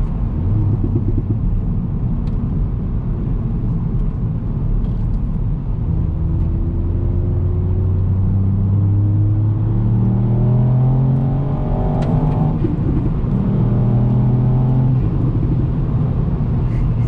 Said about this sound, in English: Yeah, it gets up to 60 really well actually, this car.